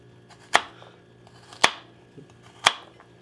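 Baby carrots chopped into small pieces on a cutting board, three sharp knife strikes spaced about a second apart, close and clear over a quiet kitchen background.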